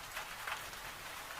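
Soft rain falls steadily on a quiet village at night, a faint, even hiss with scattered light drops and no voices.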